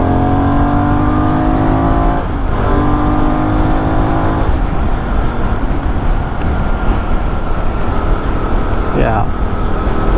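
Benelli Leoncino Trail 800 motorcycle accelerating hard on a dual carriageway, its engine note climbing through the gears with brief shift dips, under strong wind rush, with someone talking over it.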